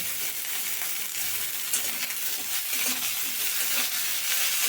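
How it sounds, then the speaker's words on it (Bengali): Chopped brinjal fries over a low flame in oil already fragrant with fenugreek, making a continuous close sizzle with scraping stirs and soft clinks of the spoon, without any talk. "এবার দিয়ে দিলাম আমি কেটে রাখা বেগুনগুলো"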